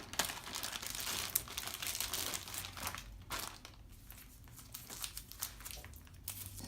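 Plastic sleeves and Ziploc bags crinkle and rustle close by while the contents of a board game are unboxed, busy crackling at first that thins into sparser crinkles, with no talking.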